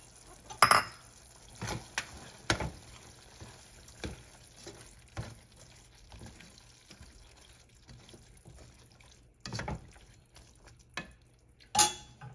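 Diced potatoes stirred into ground beef in a pan for beef giniling, with scattered spoon scrapes and clinks against the pot over a low, steady frying hiss, with no talking.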